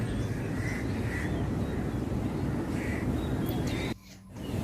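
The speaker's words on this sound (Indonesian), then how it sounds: "Di sini tuh kayak banyak burung gagak gitu ya" Crows cawing outdoors in Malaysia near the Petronas Twin Towers, a few faint, distant caws over steady city traffic and crowd noise.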